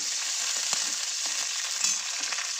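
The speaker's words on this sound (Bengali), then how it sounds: "আর দিয়ে দেবো এই যে ডুমো ডুমো করে কেটে রেখেছি পেঁয়াজ।" Diced onions fry in a pan, hissing with a bright, steady sizzle while a spoon or spatula scrapes and knocks in short irregular strokes close by; no one speaks.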